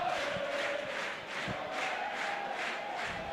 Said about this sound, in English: Crowd making themselves heard here at the Rizal Memorial Football Stadium.